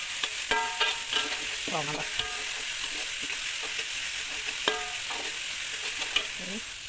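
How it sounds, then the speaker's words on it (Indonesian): Ground spice paste stir-fried in hot oil for kwetiau goreng, with a continuous close sizzle and repeated scraping stirs of a utensil against the pan; a voice briefly speaks over it. "Kita tumis dulu sebentar."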